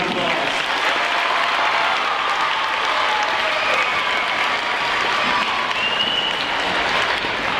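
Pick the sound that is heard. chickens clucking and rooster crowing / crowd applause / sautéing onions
crowd applause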